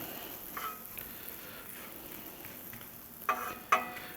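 Shrimp tossed on a hot Blackstone griddle give a steady, soft frying hiss, with a few brief louder scrapes and sizzle bursts near the end as the pieces are stirred.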